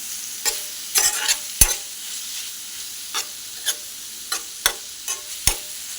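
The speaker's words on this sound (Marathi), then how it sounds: "आपण एक दोन मिनटं परतवून घेऊया" Onion, tomato and spice masala sautéed in a pan, with repeated sharp scraping stir strokes over a faint steady sizzle, close and fairly quiet, no talk.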